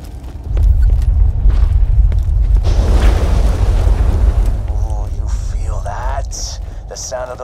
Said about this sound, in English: Earthquakes marks my drills getting closer and closer to the vault.